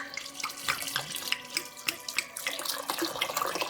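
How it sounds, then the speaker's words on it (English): Wine poured into a pot of simmering mulled fall cider, a continuous close splashing, gurgling stream with bright droplet spatters throughout, no voices. "We're going to add our wine."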